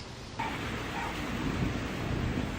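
Heavy rain pours steadily in Baguio City amid thick fog, a dense, continuous hiss that thickens after a brief quieter opening and holds loud without a break.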